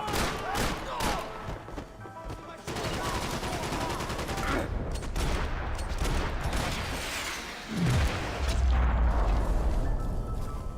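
Gunfire in the Max Payne 3 video game: rapid bursts of shots and thuds come in repeated clusters over a busy, dense mix, with a heavy low boom near the end.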